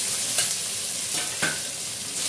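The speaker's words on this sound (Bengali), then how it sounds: "ভাজা আলু পটলগুলোকে দিয়ে দিলাম।" Fried potato and pointed gourd pieces go into a pan of spices cooked with ginger paste and are stirred, giving a steady close sizzle with scraping stirs throughout.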